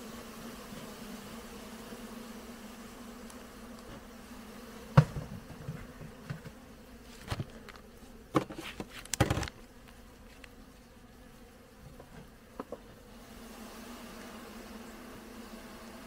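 Caucasian honey bees buzzing at a hive during winter preparation, a steady low hum of many insects throughout, with occasional nearby bumps and clicks from handling the hive in the middle, and no speech.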